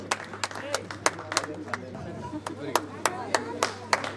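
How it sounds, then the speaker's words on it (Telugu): An audience claps at a school's 25-year batch celebration, a loose run of sharp hand claps, close and irregular, over a steady low hum and faint crowd murmur. "క్లాప్స్ కొట్టండి అందరూ"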